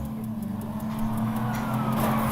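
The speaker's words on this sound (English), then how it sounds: "Damn, it's a patrol car." A patrol car in a video game drives by with a steady, moderately loud engine hum and road rumble that swells slightly as it passes, with no voices.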